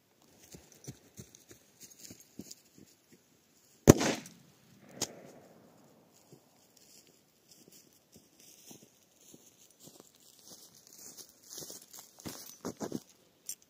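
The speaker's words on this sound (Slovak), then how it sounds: "Toto je proste tá najsilnejšia z tých menších petard." A Small Silver Crackers firecracker bursts on a tablet in a single sharp, loud bang, followed by a brief crackle and then scattered light clicks and taps.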